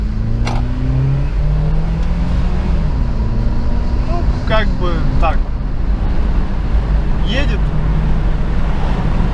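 A non-turbo Honda Fit RS drives slowly with a low, steady engine and road hum, while people talk inside the car over it and a few brief clicks and rattles stand out.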